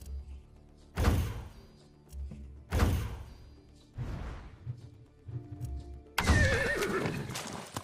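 A horse in Far Cry 6 neighs and whinnies in several loud bursts separated by pauses, with hoof clops and thuds between them.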